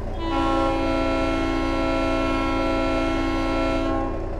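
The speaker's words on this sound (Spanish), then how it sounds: "Wow, eso es una bocina de tren, literalmente. Eso suena como un tren." Air horn of an International Transtar 4070A cabover truck blasts in one long, loud, steady chord that sounds just like a train horn, held for about four seconds and heard up close.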